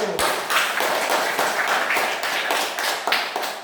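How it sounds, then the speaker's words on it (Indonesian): A classroom audience at a university clapping for a student group, a steady, close burst of hand claps that continues throughout with no talk. "tepuk tangan untuk kelompok 1"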